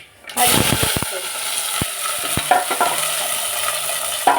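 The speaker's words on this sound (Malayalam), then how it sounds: "കടുക് ഇട്ട് പൊട്ടുമ്പോൾ തന്നെ നല്ല ചട്ടി ചൂടായതിനു ശേഷമാണ് കടുക് ഇട്ടത്" Mustard seeds crackle and pop in a well-heated pan, a steady close sizzle broken by sharp, irregular spits and snaps; no talking.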